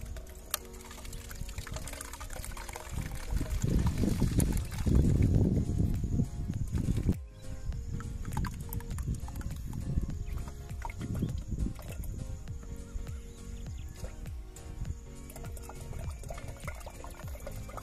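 Water pours into a small homemade biogas tank, a close, steady splashing and gurgling that swells loudest early on and then settles into a softer trickle.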